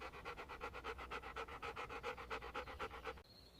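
A dog panting rapidly and steadily in a house on a hot summer day, close and clear, with rhythmic breaths throughout that stop abruptly near the end.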